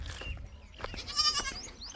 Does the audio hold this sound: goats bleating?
yes